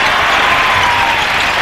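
Loud, steady roar and applause from a basketball arena crowd during a 2003 NBA playoff game, filling the whole short stretch without a break.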